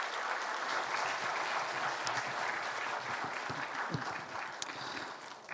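Applause from a church congregation at a Sunday service: a steady, fairly soft wash of many hands clapping together, even in level throughout with no voices over it.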